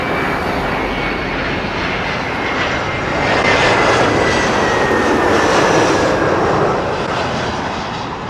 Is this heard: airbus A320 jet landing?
yes